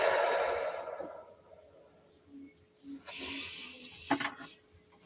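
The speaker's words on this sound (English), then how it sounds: "Take a deep breath in. And now blow out." A deep breath exhaled slowly during a guided healing exercise, a long soft airy rush that fades over the first couple of seconds, followed by quiet faint breathy sounds.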